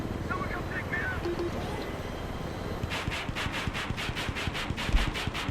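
Attack helicopter in Battlefield 3 on Wake Island, engine hum building and then a fast, steady rotor chop thumping close by, with someone talking over the noise.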